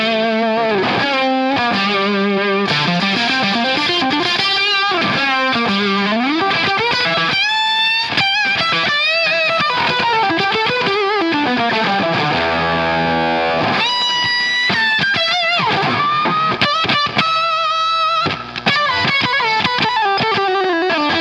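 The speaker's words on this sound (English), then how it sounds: "switching up the pickups so you can hear that the octave effect still is there" Electric guitar played through an octave effect pedal, running loud and continuous with shifting melodic lines, bends and sustained distorted notes. Pickup positions change across the passage, and no voice is heard.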